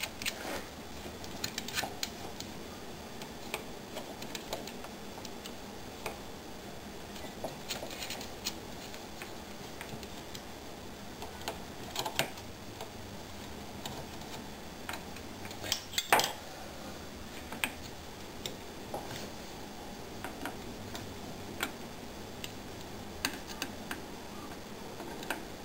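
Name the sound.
bolting the router stator back on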